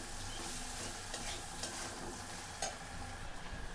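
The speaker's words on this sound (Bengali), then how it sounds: "একটু নাড়ে চাড়িয়ে নিতে হবে, ভেজে নিতে হবে ডালটাকে" Lentils cooking with turmeric and chili are stirred in a hot pan, giving a steady close sizzle broken by scraping stirs, with no talk.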